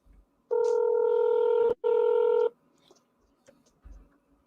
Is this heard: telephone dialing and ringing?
yes